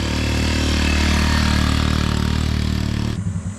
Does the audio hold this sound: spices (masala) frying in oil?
no